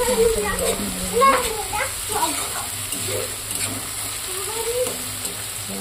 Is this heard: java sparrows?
no